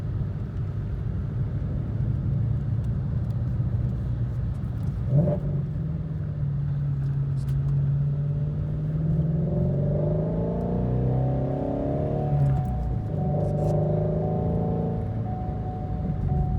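A 2017 Ford Mustang Shelby GT350 engine in sport exhaust mode revs up with a deep, throaty exhaust rumble that swells and climbs in pitch, then settles back, loud and close throughout.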